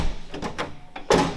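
A Jeep door swings shut on a freshly adjusted hinge during a repaint, landing as one firm, loud slam near the end, preceded by softer clunks and handling knocks.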